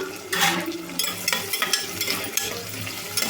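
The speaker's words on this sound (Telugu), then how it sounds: "ఉల్లిపాయ ముక్కలు లైట్గా గోల్డెన్ బ్రౌన్ కలర్ వచ్చేదాకైతే వేయించుకోవాలండి." Chopped onions fry in oil for a Tamil Nadu style kuska biryani, giving a loud, close, continuous sizzle with bursts of crackle and repeated stirring strokes in the pan, without speech.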